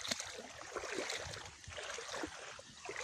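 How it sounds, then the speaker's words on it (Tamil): Water splashes and flows steadily at a natural outdoor spot, a soft continuous rushing and trickling heard at a distance, fairly faint and with no talking. "எப்படி சட சடன்னு இருக்குது பாருங்களேன் இந்த தண்ணி சத்தம்."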